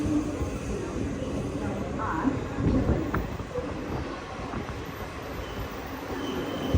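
A train at a platform of Nashik Road railway station gives off a low, continuous rumble and rolling noise over steady station ambience, while someone talks now and then.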